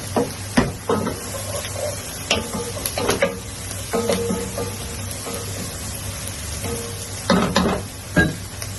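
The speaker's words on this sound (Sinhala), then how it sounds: "ටිකක් හොඳට මේක ප්‍රයි වෙන්න ඕනේ." Ingredients for steam hopper biryani frying in a pan while being stirred, a steady close sizzle punctuated by scattered knocks of a spoon against the pan, with no talk.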